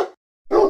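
A dog gives two loud, sharp barks separated by a short silence, close and clear with nothing else around them.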